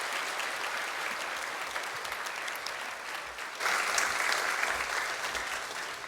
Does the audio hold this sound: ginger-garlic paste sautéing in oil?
no